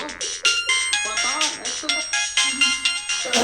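A phone ringtone plays a bright, repeating electronic melody in regular pulses, fairly close and steady, heard alone.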